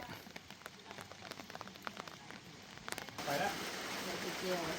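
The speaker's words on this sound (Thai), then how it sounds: "อากาศเย็นหนาว ฝนตกลิน" Light rain falls in cold weather, a steady patter of drops with scattered sharper taps, growing noticeably louder and denser partway through as the shower picks up.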